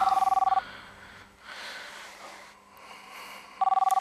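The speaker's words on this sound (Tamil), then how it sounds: "அந்த ஃபோன் எடுங்க" A telephone rings in two bursts of rapid electronic trills, one at the start and one at the end, with a quiet stretch between them.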